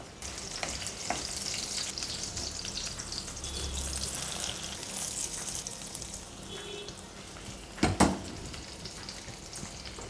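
Onions fry in oil in a pan for a red chilli chutney, giving a steady, fairly quiet sizzle with a brief clatter of stirring near the end.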